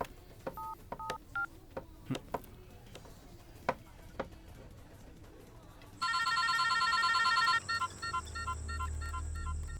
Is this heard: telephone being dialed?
yes